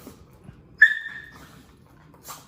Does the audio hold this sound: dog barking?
yes